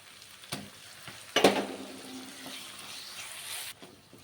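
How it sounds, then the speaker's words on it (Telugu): Ginger garlic paste frying in a pan, a steady close sizzle with a sharp burst of spattering partway through and a few stirring scrapes. "పచ్చివాసన పోయేంత వరకు అల్లవెల్లుల్లి పేస్ట్ కూడా ఫ్రై చేస్తాం"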